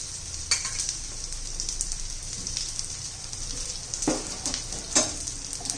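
Eggplant slices shallow-fry in oil over a low flame, giving a steady, close sizzle with soft crackles and a few sharper pops near the end, and no talking.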